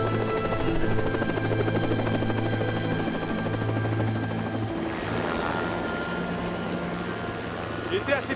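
A helicopter flies nearby with a steady, loud rotor thrum and engine whine that carries on throughout, with French-speaking voices talking over it.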